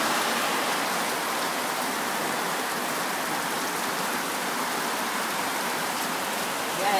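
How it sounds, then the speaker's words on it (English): Heavy rain lashes down steadily on a flooded campsite during an Italian cycle tour, a dense unbroken roar of close, loud downpour throughout with no voices. "it's still lashing down with rain"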